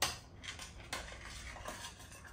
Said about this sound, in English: I do have to quickly grab the spoon and stir my pasta though